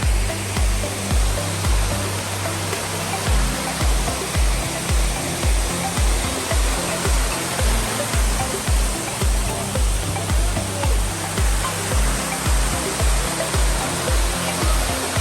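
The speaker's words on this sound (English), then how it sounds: "So this is the waterfall in the Black Forest Resort." Waterfall at the Black Forest Resort estate in the Western Ghats near Nagercoil, Kanyakumari, roaring as a loud, steady broadband rush close by, with a rhythmic low thumping pulse running underneath throughout.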